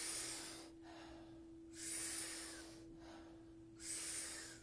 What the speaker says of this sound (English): taking about 40 powerful breaths into the body